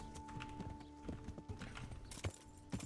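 Horse hooves clip-clop steadily at a walking pace in the medieval game Kingdom Come: Deliverance, quiet and fairly close, with a few louder, heavier hoof strikes near the end.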